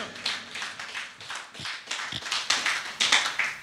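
A church congregation claps in praise of the Lord, a dense, steady patter of many hands filling the room at moderate loudness, with no voices over it.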